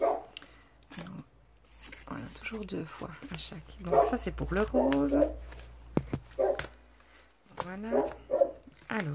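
A pet dog barks a few times in a room, the yips mixed in under someone talking steadily in French.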